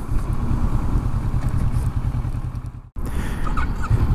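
A 2018 Kawasaki Versys 650 motorcycle rides along bendy roads, its engine droning steadily and loudly with wind rush and a low rumbling throb throughout.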